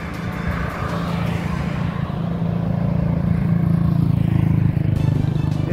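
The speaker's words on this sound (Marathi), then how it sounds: "हे पहा कशा गाड्या जातात।" Vehicles roar steadily past on the potholed, waterlogged Pune–Solapur road near Kurkumbh MIDC. The rumbling traffic noise is loud and continuous and grows slightly toward the end.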